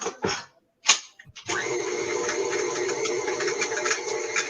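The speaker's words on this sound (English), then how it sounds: "Give it another stir." Cocoa batter being stirred in a bowl, heard as a few brief scrapes at the start, then a steady motorized whir, likely a mixer, running loud and close to the end.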